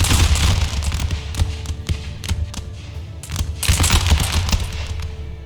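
Musket volleys in an Empire: Total War battle at Hannover, with flintlock-armed troops firing: dense crackling bursts of shots, loud and close at the start and again near the end, with thinner scattered pops between and a low rumble underneath.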